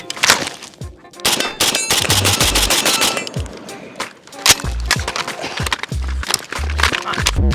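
An AK rifle fires outdoors during a reload drill: sharp, loud bursts of gunshots in rapid runs, broken by short pauses and metallic clanks.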